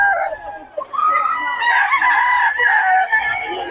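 Roosters crowing loudly and close, overlapping calls filling the space, with some clucking from gamefowl at a poultry farm in Bocaue.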